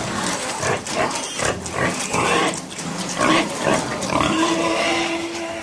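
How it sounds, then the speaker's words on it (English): Pigs fight in a farm setting in a radio drama, with loud, close squeals, grunts and snorts that come in repeated, overlapping bursts throughout. "2 pigs die in a fight"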